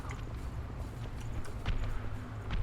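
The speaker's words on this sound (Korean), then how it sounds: "위에서 계속 발자국 소리가 들리니" Footsteps sounding from above in the Code Vein video game, dull irregular thumps muffled under a dense, rumbling game ambience, with no voices.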